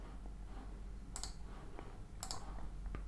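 Two sharp computer mouse clicks on a desktop, each a quick close double tick, spaced about a second apart, with a few fainter taps between and after them against quiet room hiss.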